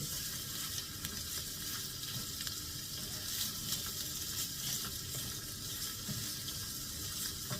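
Salted cabbage with egg and fried shallots stir-fried in a pan, a steady, continuous sizzle with faint scraping and stirring throughout, moderately close, without voices.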